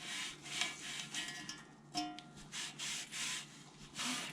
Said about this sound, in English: I do need to wipe off the residue. I have a microfiber towel at the ready